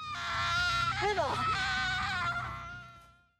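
Emma, an anime girl, lets out a loud, strained scream that wavers and breaks for about three seconds before trailing off.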